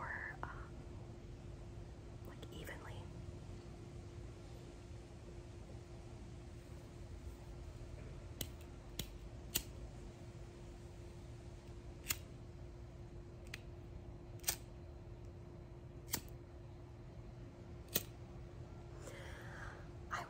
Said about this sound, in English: usually when the candle has like the wick is turned over like that, you're supposed to cut it